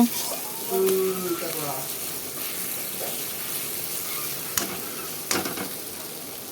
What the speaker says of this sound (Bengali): মশলাটাকে পুরো ভাজা ভাজা করে একটুখানি ঝোল দিয়ে দিলাম